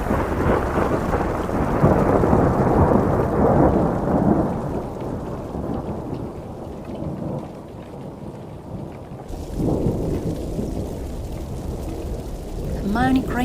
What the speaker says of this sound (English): the distant rumble of thunder outside